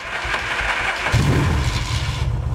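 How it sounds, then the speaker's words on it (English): A 1981 Yamaha XS650 motorcycle engine turns over and fires, its cranking giving way midway to a louder, rougher low rumble of the twin running close by. "Start and warm up the engine."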